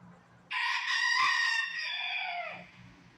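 A lost rooster crows once inside a laundromat, a loud, close, drawn-out cock-a-doodle-doo rising sharply and trailing off, over a low steady machine hum.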